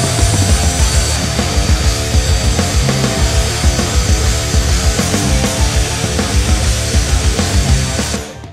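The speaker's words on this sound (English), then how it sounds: "I have this all wire wheeled down. We're down to the bare metal." A power wire wheel grinding paint off a metal ATV swing arm from a Banshee 350, a loud continuous abrasive whir with a rough scraping texture that holds steady throughout, no talking.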